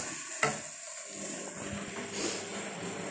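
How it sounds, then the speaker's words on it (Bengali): Marinated meat hitting a hot pan, a sharp splash onset followed by a steady, close sizzle and frying hiss with faint stirring clatter, no talk. "এই মাংসটা ঢেলে দিচ্ছি"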